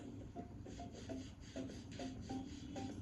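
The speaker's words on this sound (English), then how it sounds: "Rajendra prepares the model for the wax, smoothing the surface with a file and rubbing it with a bean leaf." A file is drawn over the surface of a wax model in a traditional Indian metal-casting workshop, producing quiet, evenly spaced rasping strokes roughly twice a second, close up, with no speech.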